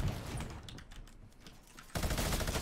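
Rapid automatic gunfire sprays the player in the video game Fortnite, a dense rattling burst that thins in the middle and then returns louder and closer near the end.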